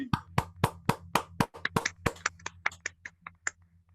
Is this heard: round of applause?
yes